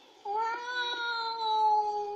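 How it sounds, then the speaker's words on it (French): A single long, plaintive cat meow, clear and close, rising slightly and held for about two seconds in an otherwise quiet scene of a cartoon. "Oh, le pauvre petit minou!"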